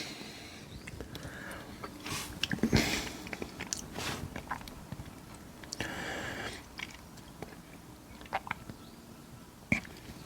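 Someone bites into and chews the vegetable filling from a French military MRE ration, an oily, rancid-looking mash, with soft wet crunches and smacking bursts scattered over about ten seconds, fairly close and without talk.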